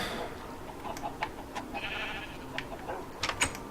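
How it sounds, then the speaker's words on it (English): A Minecraft sheep gives a brief, faint bleat midway through, set against quiet game ambience and scattered light clicks. "Let's go get our one sheep that's"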